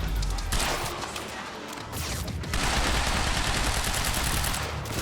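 Gunfire in the PC video game Quantum Break crackles as dense bursts of close shots, dipping briefly before resuming strongly, with a voice faintly beneath the shooting.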